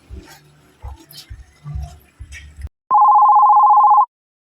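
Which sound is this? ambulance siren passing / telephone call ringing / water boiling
telephone call ringing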